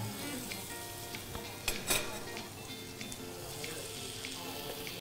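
Fatty pork belly frying in oil in a pan in a home kitchen gives a continuous close sizzle and crackle, with a few sharper pops and light stirring clatter.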